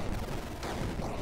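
Rapid boss gunfire in the indie video game Bleed, a loud, dense stream of shots filling the short moment without any talk.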